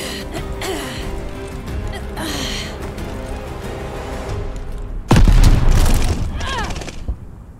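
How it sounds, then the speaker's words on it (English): A grenade goes off in the Call of Duty Vanguard team deathmatch, a sudden loud boom with rumbling debris about two-thirds in, after steady gunfire and game sounds, fading away. "Tossing grenade."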